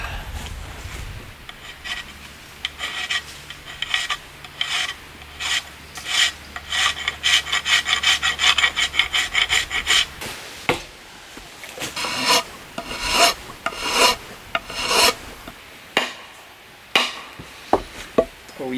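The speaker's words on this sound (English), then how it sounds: "For that, going back to the rasp." A rasp files a wooden axe handle for a Husqvarna 26-inch forest axe, producing rhythmic, close scraping strokes that start steady and become more irregular and punchy, over a faint low hum early on.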